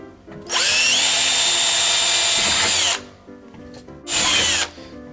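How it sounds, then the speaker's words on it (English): Power drill with a 1/8 inch bit boring pilot holes for a Larson storm door install, a loud steady whine lasting about two and a half seconds, then a shorter second burst after a brief pause. "Drill some pilot holes."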